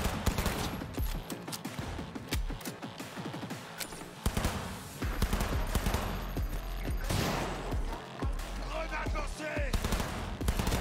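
Rapid gunfire in the Cyberpunk 2077 video game, loud bursts of automatic shots and sharp cracks stacked in quick succession almost continuously, with heavy low thumps and little speech.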